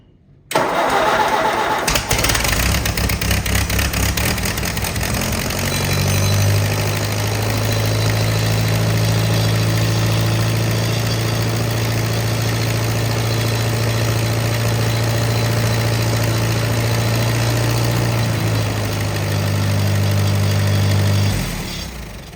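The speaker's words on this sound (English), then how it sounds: "We'll start the tractor and just make sure that it's not gonna throw the belt off" A heavy 1951 Allis-Chalmers WD tractor engine cranks and catches, then settles into a steady, loud rumbling idle that runs on for a long stretch before tapering slightly.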